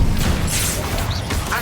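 Incendio fire spell cast in Hogwarts Legacy, a loud, dense burst of crashing, whooshing combat noise that runs continuously through the short moment with no pause.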